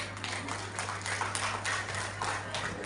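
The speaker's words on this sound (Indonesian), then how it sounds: "tepuk tangan untuk ibu-ibu kita" Applause for the mothers at an elementary school farewell gathering in Kendari: dense, steady clapping from a seated audience with a low hum underneath, filling the whole stretch at even loudness.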